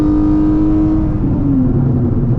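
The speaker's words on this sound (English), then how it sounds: "I love how this car sounds, bro" A car engine revs hard during an acceleration pull from 50 to 120, a loud, steady, deep drone with the pitch gliding as the gears change, close up inside the car with no talking.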